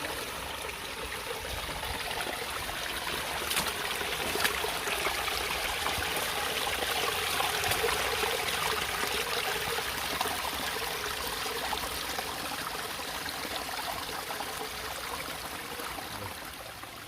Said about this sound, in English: You can almost feel the energy from the water as it makes its way through the woods.